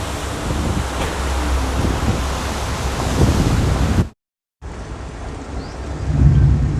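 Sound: heavy rain and strong wind storm

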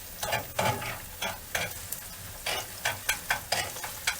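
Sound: stirring frying onions with a spoon

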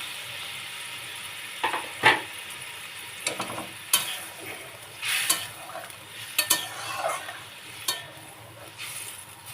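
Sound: frying and stirring spice masala with pointed gourds

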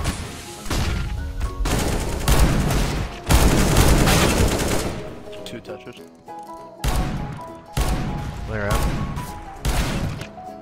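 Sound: R8 revolver gunfire in video game CS:GO

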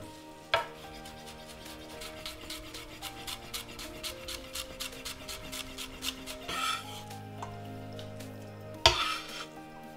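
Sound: chopping fresh mint

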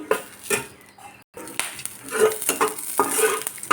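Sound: green chillies frying in oil

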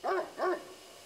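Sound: dog howling nearby, from video game Death Mark

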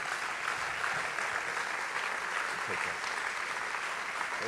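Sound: congregation clapping

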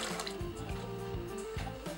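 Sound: chickpeas being added to a pot of water on the stove

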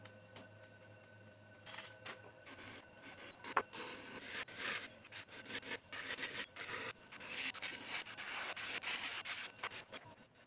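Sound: trimming a clay vase foot on pottery wheel

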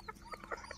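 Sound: black chickens clucking at a farm

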